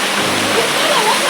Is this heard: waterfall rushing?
yes